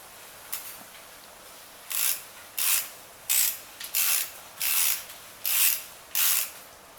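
A tool tightens a road bike bottom bracket in a series of seven rhythmic ratcheting strokes, each a short, crisp, close-up burst, after one faint tap.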